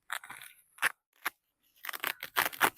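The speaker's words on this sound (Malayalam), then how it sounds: "അപ്പൊ നമുക്ക് ഇതിന്റെ ചാക്ക് ആദ്യം തന്നെ റിമൂവ് ചെയ്യാം" Plastic sack packaging being cut and torn off a new gear bicycle during unboxing, a few short crisp snips and crinkly rustles in separate bursts, close and fairly loud.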